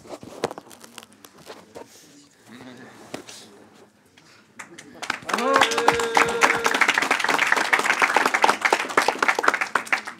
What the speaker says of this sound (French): Alors, vous pouvez l'applaudir, je pense.